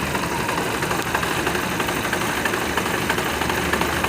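A Fiat Uno engine settles back to a steady idle after the throttle is released, a continuous mid-level rumble with a faint knocking texture running evenly throughout, close by with no talking.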